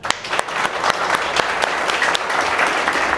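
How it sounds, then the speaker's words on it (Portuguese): A church congregation claps together at the end of an evening service, a dense, steady round of applause with some sharper individual claps near the start. "Nós te exaltamos nessa noite com a salva de palmas ao Senhor."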